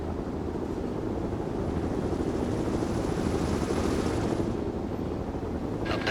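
An Apache attack helicopter flies in the World in Conflict war game, a loud, steady rotor and engine drone that continues throughout, with no talk heard over it.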